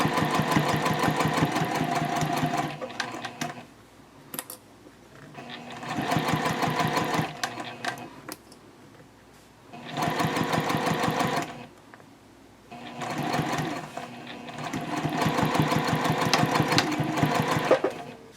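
A sewing machine stitches piping onto a bag with a piping foot at 2.5 stitch length, running in four or five loud rhythmic bursts separated by short pauses.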